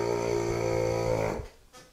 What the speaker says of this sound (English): if you get that airy sound, let your lips touch together